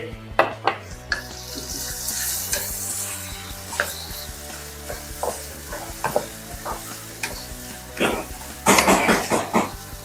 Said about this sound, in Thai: เอากุ้งลงไปผัดพร้อมกันเลยพี่น้อง เอากุ้งลงไปต่อเลย